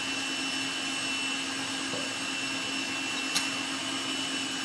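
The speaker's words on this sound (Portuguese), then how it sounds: "eu vou pegar o óleo, 80 gramas de óleo e vou colocar aqui na batedeira" An electric stand mixer whirs steadily as it beats eggs, sugar and oil, a constant motor drone with one faint tap partway through.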